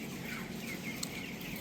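Broiler chickens on day 20 of rearing, some with a mild cold under medication, clucking together as a flock in a poultry shed, a steady low murmur of calls with no single bird standing out.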